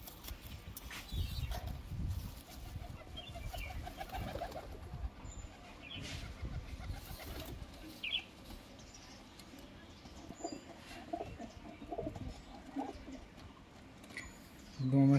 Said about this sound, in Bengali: এইগুলো সাদা, দেখতে সুন্দর পায়রাটা, তাই না?